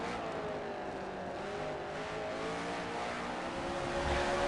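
Formula race car engines in the Forza racing video game whine steadily and loudly through the whole stretch, with several engines layered and shifting pitch slightly, and nobody speaking.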